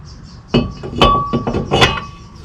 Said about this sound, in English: Putting on my rotor.